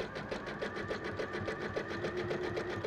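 A sewing machine runs a zigzag stitch along a fabric edge, its needle ticking in a fast, even rhythm close up at a soft, steady level.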